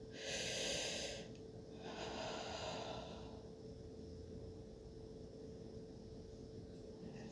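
Two deep, close breaths during a guided meditation, a long inhale then a long exhale, each a soft airy rush, followed by quieter room hiss over a steady low hum.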